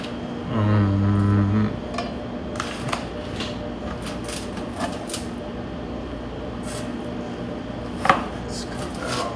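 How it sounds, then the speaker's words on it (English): Knife chopping a green onion into tiny slices, a short run of quick close taps against a board at the start, then faint scattered clicks over low room noise. "Let's cut that off, and then I'm just make it into tiny slices like that."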